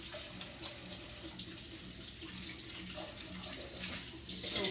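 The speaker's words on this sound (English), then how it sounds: "Give my hands a quick little wash here." Hands are washed under a running kitchen tap, a steady faint splashing of water over the whole stretch that swells slightly toward the end.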